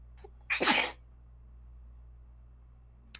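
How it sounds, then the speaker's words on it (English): A single sharp sneeze bursts out close by, then quiet with only a faint low hum. "I'm about to sneeze."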